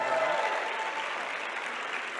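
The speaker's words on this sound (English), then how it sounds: "give them a round of applause as well" Audience applause at a motivational talk fills the room: dense, even clapping from a sizable crowd, steady and fairly close for a couple of seconds.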